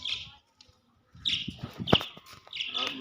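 Bright, shrill chirps and squawks from pet parrots in short bursts, close by, with pauses in between and a soft clatter in the background.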